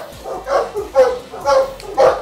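At a Boerboel and Rottweiler kennel, a dog gives four evenly spaced deep barks with a whining edge, close and moderately loud over a low background hum.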